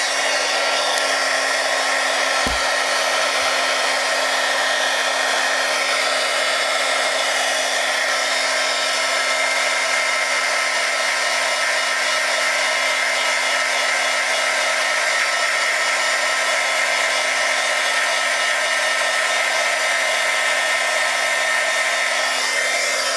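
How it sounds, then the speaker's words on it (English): A heat gun blows steadily, heating a metal curling tool to curl ribbon; a loud, unbroken whooshing hum runs the whole time with one brief click near the start. "I'm going to heat my heat gun while I'm holding the ends, and I'm going to just heat that metal."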